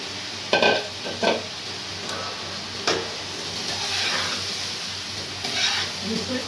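Vegetables frying in a pan while being stirred, giving a steady soft sizzle with a few sharper scraping knocks near the start.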